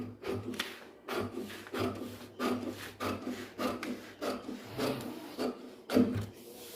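Scissors cut through fabric for a scallop neck design in repeated short crisp snips with an uneven rhythm, close and fairly quiet.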